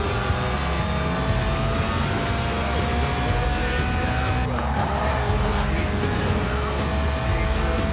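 A Lotus Elise Sport 190, a mid-engined rear-wheel-drive roadster tuned for track days, drives hard in Forza Horizon 4, its engine droning loudly and steadily with tire squeal, close and continuous.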